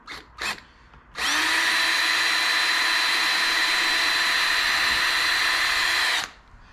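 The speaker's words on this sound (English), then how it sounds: "so I'm going to drill it out." A power drill bores a pilot hole while a Motorguide Xi3 trolling motor is installed on a Bonafide SS127. Two short blips are followed by a loud, steady, close whine for about five seconds that then cuts off, with no voices.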